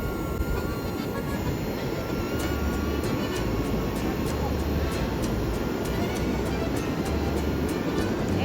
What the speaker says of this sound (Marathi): ड्रोन शॉट करतोय आम्ही.